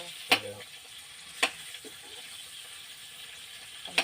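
Pork frying in a pan, with a faint sizzle in the background punctuated by a few sharp scraping clatters of a utensil against the pan.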